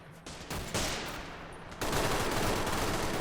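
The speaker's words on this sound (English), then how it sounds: "We've got an MG42 opening up back here." An MG42 machine gun fires in a Call to Arms World War 2 Normandy invasion battle, a rapid dense burst of gunfire growing louder and more continuous toward the end.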